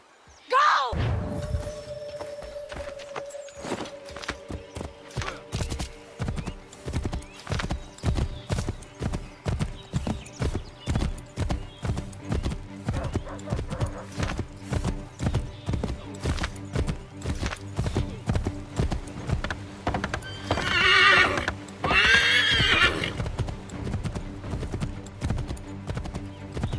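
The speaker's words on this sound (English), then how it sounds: "Take my horse!" A horse in Assassin's Creed III gallops with fast, rhythmic hoofbeats thudding close by, opening with a neigh and later a brief whinny or shout over the running clatter.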